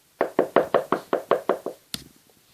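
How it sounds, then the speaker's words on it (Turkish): Knuckles rap on a door in a quick, even series of about nine sharp knocks, close and loud, followed by a single heavier thud, with no talk. "Kapı çaldı."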